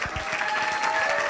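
Brief burst of applause from a cheering section in the audience at a school board of education meeting, dense clapping filling the room, moderately loud and steady.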